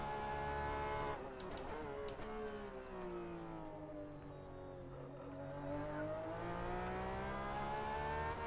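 A race car engine in rFactor 2 screams at high revs, its buzzing pitch sliding and holding steady near the rev limiter, with brief clicks early on.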